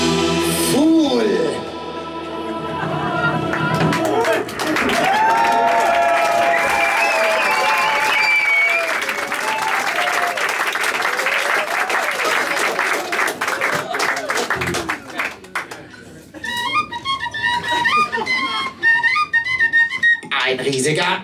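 Concert audience at Schokoladen in Berlin applauding a trio, sustained clapping and cheering with a few whistles, loud and continuous for most of the stretch and thinning toward the end as voices and music-like tones emerge.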